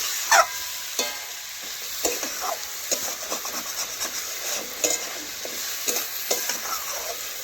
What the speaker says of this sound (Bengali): দিয়ে আবারও নাড়াচাড়া করে ভালোভাবে রান্না করে নিচ্ছি